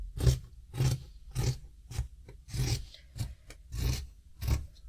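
Scissors cut through thick warm skirt fabric in eight distinct rasping strokes, evenly spaced and close, with short quiet gaps between snips.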